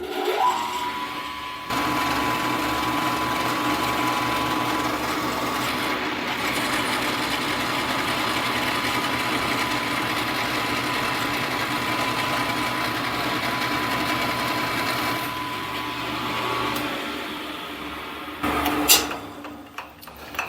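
A milling machine makes a final cut in thin material held in a vise jaw, a steady whining motor and cutter hum with a faint tonal whine, running continuously before winding down near the end.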